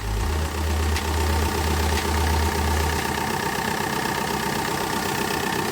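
A 2007 Kia Bongo III double-cab diesel with a manual gearbox idles close up, a steady, loud clattering rumble with a regular knock, plus a low pulsing tone during the first seconds.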